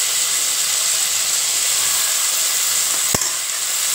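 Chopped onions and medium tomatoes sauté in a pan for mushroom biryani, giving a steady, close sizzling hiss with one brief knock near the end.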